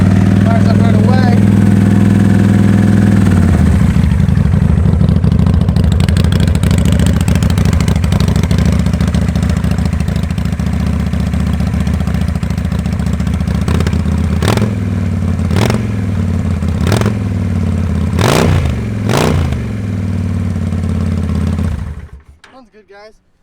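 A 2005 Honda Shadow motorcycle with about 23,500 miles fires up and idles with a steady, loud, close rumble. Several sharp throttle blips follow near the end before the engine cuts off.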